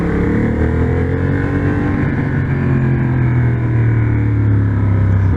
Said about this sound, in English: So it's a very naughty bike, a bike that responds to your throttle input almost immediately